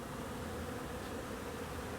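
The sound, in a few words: bees buzzing around hive entrances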